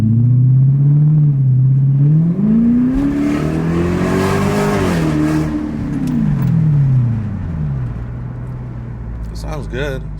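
A Lexus SC400 with an aftermarket exhaust revs up and down several times, its loud, close engine note swelling and falling steadily for several seconds.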